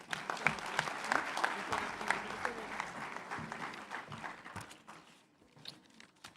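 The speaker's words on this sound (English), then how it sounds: "A round of applause." An audience at a national awards ceremony breaks into applause, a dense patter of many hands that carries on and thins out toward the end, fairly faint and distant.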